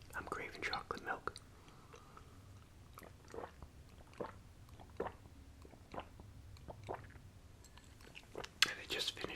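Soft wet chewing and biting of a Philly cheesesteak sub, close and quiet, in irregular bursts with a few louder crunchy bites near the end, under faint whispering.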